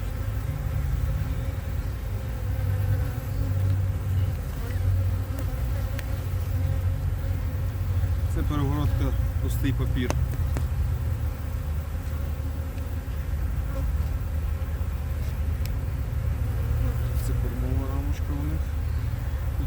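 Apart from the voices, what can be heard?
honeybees buzzing at a beehive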